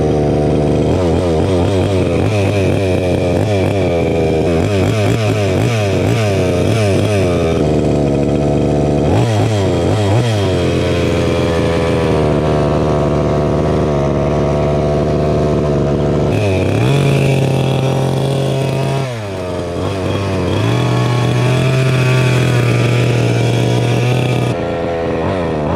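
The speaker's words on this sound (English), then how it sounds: "That's my old 30cc Rovin Baja. It has the brand new silenced dual rear exhaust." A 30cc Rovan Baja RC car's gas engine with a silenced dual rear exhaust buzzes loud and close, revving up and down repeatedly in rising and falling bursts, with a brief dip near the end before climbing again.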